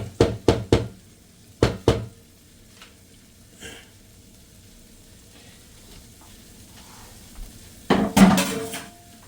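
Onions tossed into a hot pan on a stovetop: several sharp knocks and clatters of utensil on cookware, a quiet stretch of faint sizzling, then a louder burst of clattering and frying.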